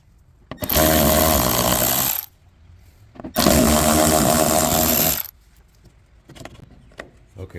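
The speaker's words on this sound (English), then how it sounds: "So it looks like just the T25 that needs to go in there and take those screws out." A power driver with a T25 bit backs screws out of a 2014 RAM 2500 truck bed, two loud, sustained close whirring bursts of about two seconds each with brief clinks in between, no voices.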